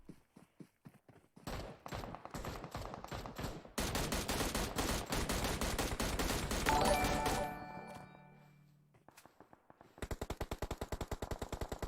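Gunfire from PUBG Mobile: rapid automatic bursts crack out in dense volleys, swelling into a sustained loud fusillade, then thinning into single shots before another rapid burst of fire.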